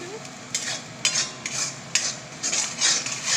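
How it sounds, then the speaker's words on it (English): Dum aloo potatoes with turmeric stirred in a pan, a spoon scraping in quick, uneven strokes about every half second over a faint background hiss. "You need to constantly stir it so that it doesn't stick on to the bottom of the pan."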